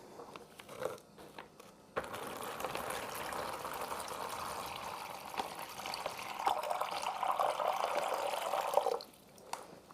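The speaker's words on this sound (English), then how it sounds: "And we're going to start pouring water in." Water pours steadily into a vase for a flower arrangement for several seconds, a close, rising gurgle after a few brief drips, then stops abruptly.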